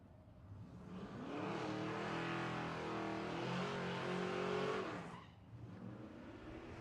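A Fox Mustang with a nitrous-assisted small-block Ford and a second-generation Camaro with a twin-turbo LS launch at a drag strip, one engine revving steadily then cutting off, heard from a moderate distance.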